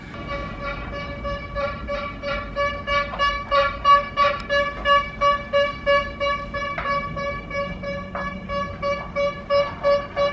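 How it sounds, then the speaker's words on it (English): A car horn honks repeatedly in a steady series of beeps, moderately loud and fairly close, with a tonal blare that pulses through the whole stretch. "Prepare to hear the beep, the honk."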